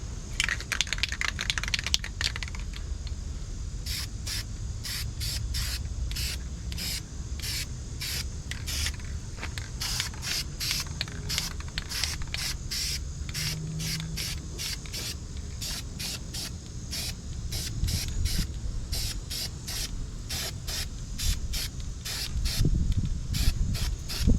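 Aerosol spray paint coating a junkyard Mustang brake part black, heard as a long series of short, evenly spaced hissing bursts close up, each quick pass separated by brief pauses over a steady background.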